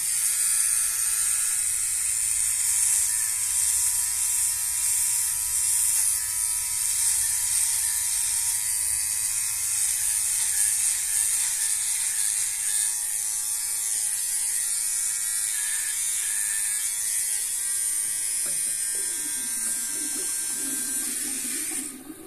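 A Philips OneBlade electric shaver runs with a steady, loud high-pitched buzz while it is held under running water and rinsed, near and continuous, with a faint splashing change near the end.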